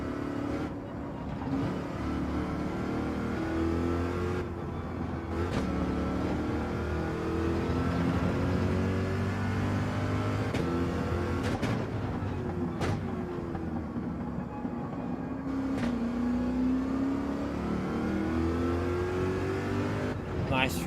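A Corvette race car in Gran Turismo 7 drones steadily at close range, its engine pitch rising and falling through gear changes across a continuous run, with a voice talking over it at times.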